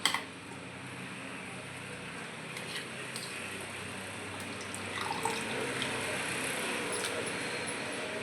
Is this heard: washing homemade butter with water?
yes